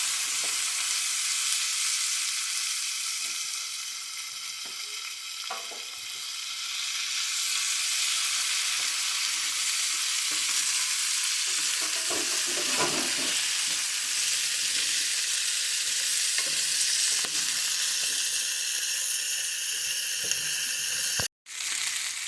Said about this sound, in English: Make sure that butter and garlic mixture gets incorporated really well with the onions and potatoes.